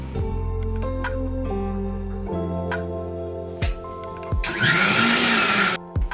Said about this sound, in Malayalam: സെയിം ടൈം നമ്മൾ കറിക്ക് വേണ്ടിയിട്ടുള്ള തേങ്ങ ഒന്ന് അരച്ചെടുക്കലാണ് കേട്ടോ